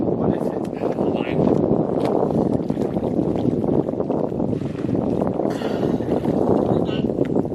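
Wind gusts hard across a mountain lake in Montana, a loud steady roar of microphone buffeting and rushing air that lasts throughout, with water-sport-like splashy noise mixed in.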